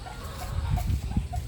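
Bulik chickens, backyard fowl with pale green legs and straight combs, give a few short clucks at close range over low rustling and handling noise.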